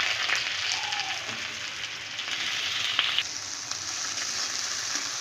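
Chopped onion hitting hot oil in a wok and frying, a loud, continuous hiss and crackle heard up close, with occasional stirring scrapes breaking through.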